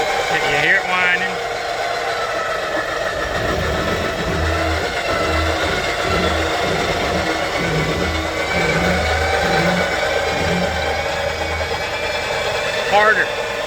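An X Bull winch whining as it stretches synthetic rope near an Iron Cross bumper, a steady mechanical drone with a running engine underneath, while people talk nearby.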